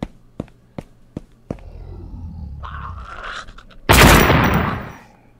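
Several sharp gunshots crack in quick succession in the video game Delivery from the Pain, followed by a rising rumble and a loud, sustained explosion-like burst of noise.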